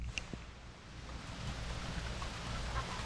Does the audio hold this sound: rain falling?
yes